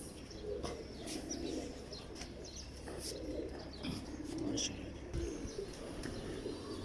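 Pigeons of a prized Mistri breed coo softly in soft repeated calls with a few chirps and wing flutters, faint and close, while someone talks over them.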